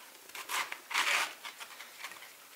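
A knife cuts through a head of cabbage for sauerkraut, giving several crisp, crunchy slicing and rustling strokes up close, irregular in rhythm, with no talking.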